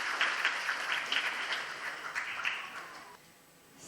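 Applause from a congregation at a church wedding ceremony, right after the exchange of rings and vows, steady dense clapping that holds for about three seconds and then fades to a quieter tail.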